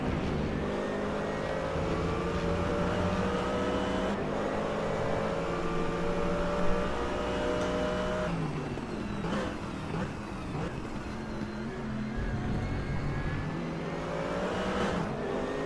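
Onboard race car engine from a sim racing game at the Zhuhai GP, loud and continuous, climbing through the revs, with gear changes and a few drops as the car brakes and downshifts, no talking.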